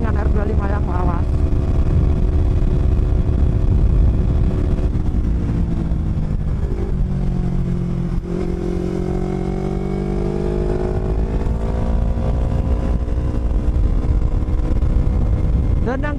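An older Yamaha R25 motorcycle engine runs loud and close, a steady droning hum whose pitch dips and rises as the revs change, with no pauses.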